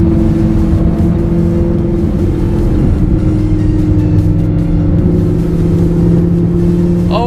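A Toyota Supra's engine drones loudly and steadily nearby at a car meet, a sustained throaty tone with no talking over it.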